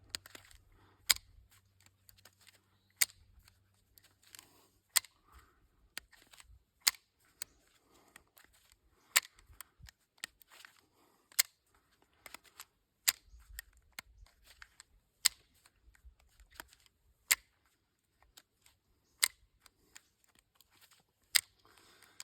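A revolver fires shot after shot in a cylinder torture test, sharp loud cracks spaced about one to two seconds apart across the whole stretch, with faint handling noise between shots.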